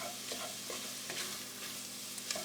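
Two tablespoons of Hungarian paprika sautéing in a pot for a kidney bean soup, a soft continuous sizzle with light stirring scrapes, close and fairly quiet.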